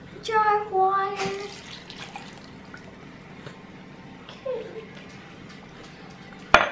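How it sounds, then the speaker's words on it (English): Water poured from a jar into a crockpot of beef stew, a brief splash and trickle near the start followed by quieter dripping. "Now we're going to dump the water in."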